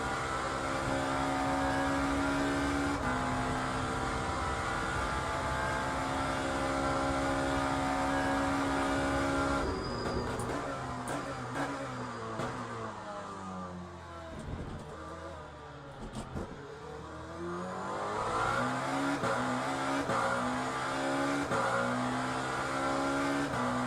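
A Lamborghini race car engine in a racing game drones loud and steady, then rises and falls through revs and gear changes in wet conditions, with no talking.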